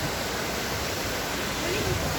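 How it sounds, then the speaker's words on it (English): Water splashing in Rome's Trevi Fountain, a steady, dense wash of falling and churning water that holds loud and even throughout with no break. "This is that famous fountain."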